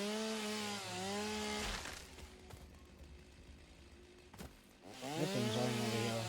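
A chainsaw cutting wood in a video game: a buzzing engine whine that rises and falls in pitch, dropping to a rough grinding hum mid-cut before revving up again, fairly close.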